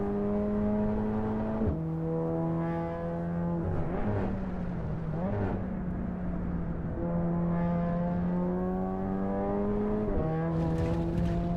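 A road car engine in the Assetto Corsa Evo racing game, muffled by sound deadening, revving up in long smooth sweeps between gear changes, steady and alone without talk.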